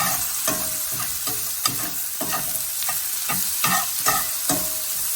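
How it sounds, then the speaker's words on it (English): Minced garlic sautés in a pan with a constant bright sizzle, punctuated by regular scraping strokes of a spoon or spatula stirring, close and without talk. "I'm going to saute these up until I smell the garlic"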